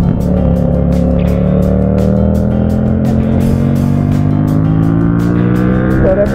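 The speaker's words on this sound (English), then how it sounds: "Wow, that exhaust note is good." A motorbike fitted with a replica exhaust rumbles loudly nearby on a night road, its rising, shifting engine note heard over the steady drone of a ridden bike's own engine.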